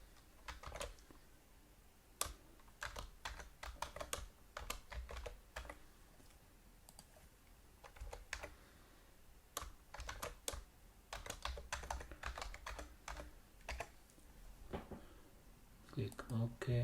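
Computer keyboard keys tapped in quick, irregular bursts while entering a username and password to sign in to an Azure virtual machine, close and fairly loud with short pauses between clusters of keystrokes.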